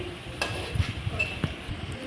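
Meat added to fried onions sizzles quietly in a pan, with a few clinks and stirring knocks over a soft, steady frying hiss.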